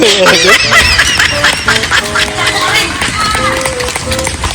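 Ducks quack repeatedly and loudly over a busy, noisy background, with honking calls overlapping throughout.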